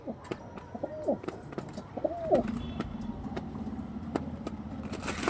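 High-quality pigeons offered for sale coo in a few rolling, rising calls nearby, with a car engine droning in the background and scattered clicks around them.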